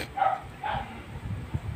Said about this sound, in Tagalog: ang ingay na aso